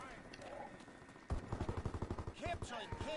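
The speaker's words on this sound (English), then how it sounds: "we've got a light machine gun running through the middle" Bursts of rapid light machine gun fire from a Call of Duty WW2 match on the Shipment map crackle in a quick staccato run, with a voice talking over parts of the clip.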